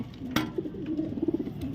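Pigeons coo softly and close by, low throaty repeated calls rolling in a loose rhythm, with a single sharp click near the start; the birds are at a pigeon loft in Calumpit, Bulacan.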